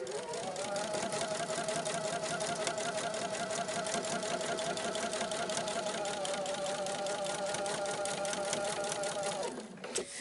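A sewing machine stitches quilt units in a fast, continuous whir of rapid needle strokes, running evenly for several seconds before stopping abruptly near the end.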